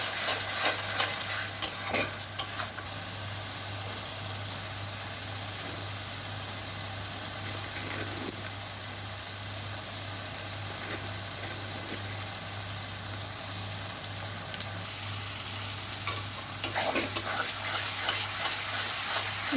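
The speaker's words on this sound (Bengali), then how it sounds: "এই জন্য মশলাটা আমি অনেক ভালোভাবে কষিয়ে নিই।" Spices for beef tripe bhuna, with coriander powder and meat masala, stir-fried steadily in a pan, giving a continuous sizzle with occasional scraping stirs and a low steady hum underneath, no voices.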